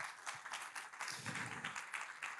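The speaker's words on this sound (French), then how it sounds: "Je pense qu'on peut vraiment vous applaudir pour toutes ces précisions." A conference audience applauds with quick, even clapping that is faint and continuous for a couple of seconds.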